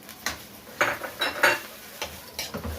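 Liver with onion and garlic sautéing in a pan on a gas stove, heard as a string of scraping and clinking utensil-on-pan strokes at close range with no talk.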